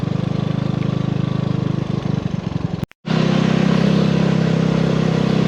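A Vespa scooter engine drones steadily while riding along a road toward Mae Chaem in Chiang Mai, with a brief cut in the sound midway before the close, buzzing hum resumes.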